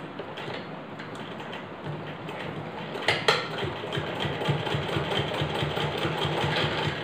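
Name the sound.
sewing machine stitching salwar hem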